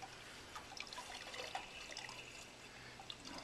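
Fruit juice for hard cider is poured through a funnel, giving a faint, soft trickle and scattered drips at close range.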